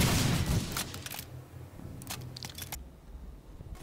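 Rapid-fire shots from a T2 Striker rocket launcher in the PlanetSide 2 video game, sped up to double rate, sound as a dense burst of loud booming launches in quick succession, thinning out toward the end.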